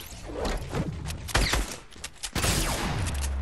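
Gunfire from a first-person shooter video game match, a dense burst of shots with sharp reports around the middle and a loud crack near the end, continuous and close with no talk.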